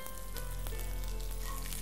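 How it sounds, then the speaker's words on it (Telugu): Curry leaves and green chillies sizzle and splutter in hot oil, a tempering for ridge gourd chutney, with a steady close crackle and no voices. "అదే పచ్చిమిర్చి అంటే అట్లా చిల్లుతుంది కాబట్టి కొంచెం మనం జాగ్రత్తగా ఉండాలి"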